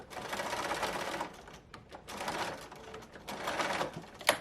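A home sewing machine stitches a ruffled pillow from IKEA duvet cover fabric near a zipper, running in three rapid, buzzing bursts separated by short pauses, close and loud, ending with a sharp click.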